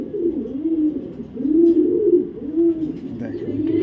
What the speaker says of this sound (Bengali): এখানে দেখাবো এক জোড়া তাইওয়ানের অরিজিনাল রেসার কবুতর